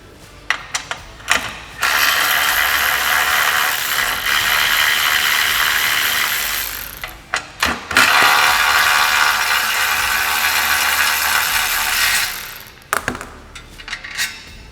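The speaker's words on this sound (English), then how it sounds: "Then we're going to grab an 8mm socket. And we're going to remove our latch." A ratchet with an 8mm socket backs out door latch screws on a Polaris RZR Pro R, giving loud, close, continuous rapid clicking in two long runs broken by brief metallic knocks and taps.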